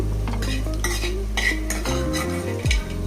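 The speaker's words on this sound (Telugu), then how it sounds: "మొత్తం పూర్తిగా వేసుకొని కలపండి" Fried dry prawns being stirred into a tomato curry in a pan, with a steady scrape and clatter of the spoon against the pot over a continuous low sizzle, close and fairly loud, no voices.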